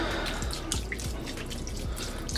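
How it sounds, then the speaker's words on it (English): Hot water running from a tap into a sink to soak a rack, a steady close rush of pouring water with a few drip-like plops and bubbling, no talking. "I'm gonna let it fill up. So it fills up to cover just enough on the rack here. I'm using hot water"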